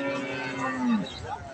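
A Holstein Friesian dairy cow at a cattle market gives one drawn-out, fairly close moo that slides downward and fades into murmuring background noise.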